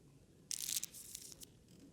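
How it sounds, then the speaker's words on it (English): Playing cards shuffled in the video game Dragon Age: Origins, a single crisp riffling burst of about half a second followed by softer scattered rustles, close and alone with no talk. "Before we start, the cards must be shuffled."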